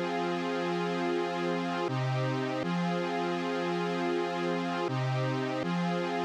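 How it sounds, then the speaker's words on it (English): Sustained Vintage 1 synth pad from the Xenology plugin plays chords copied from a dark trap melody, held tones changing roughly every two to three seconds, steady and loud with no voices. "So I went into Xenology and I went with the Vintage 1 pad right here."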